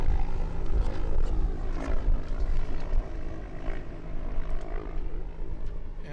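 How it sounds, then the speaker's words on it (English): Propeller aircraft of the Dawn Patrol team landing and taxiing to park at the Apple Valley air show, a steady broad engine roar with some fluctuation, moderately loud and continuous throughout, with faint crowd or background noise. "And there is the Dawn Patrol landing, parking after their second wonderful performance"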